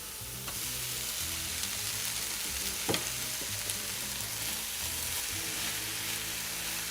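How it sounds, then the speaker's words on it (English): Drained soy curls fry in a pan of spice paste for vegan chorizo, a steady dense sizzle with scraping stirs throughout and one sharper clatter partway, close and unbroken, no voices. "go ahead and add in your fully drained soy curls into this mixture"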